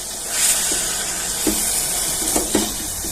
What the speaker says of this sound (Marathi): आता छान अशी परतून घेऊया भाजी